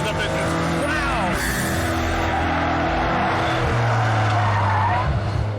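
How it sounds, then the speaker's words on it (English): A McLaren F1 with its 627-horsepower BMW V12 engine accelerates hard, a loud continuous engine roar with rising tones and tire noise close by, while someone talks over it. "V12 627 horsepower BMW engine is doing the business behind me"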